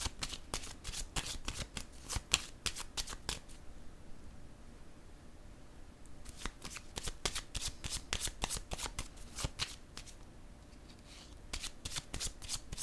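A deck of tarot cards shuffled close up in several bursts of fast, crisp riffling, with a quiet pause in the middle and no speech.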